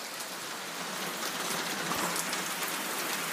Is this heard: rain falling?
yes